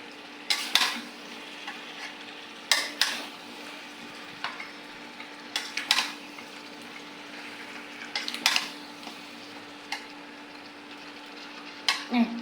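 Ash gourd pieces tipped into a pan of frying spiced masala, bringing a few sharp clattering stirs and scrapes at intervals over a faint, low background sizzle.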